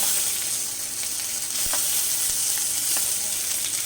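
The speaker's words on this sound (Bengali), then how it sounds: "এবার আমি টমেটো কুচি দিয়ে দিচ্ছি" Chopped tomato frying in a pan for an egg and cabbage dish, with a constant loud, close sizzle and a few soft knocks from stirring.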